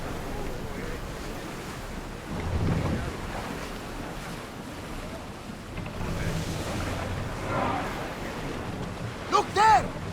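A ship under sail at sea in Assassin's Creed Odyssey, with steady rushing waves and wind swelling and easing across the stretch, water washing against the hull, and a brief voice-like burst near the end.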